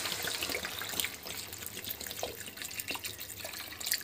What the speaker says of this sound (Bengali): দেখুন এবার জল দিচ্ছি।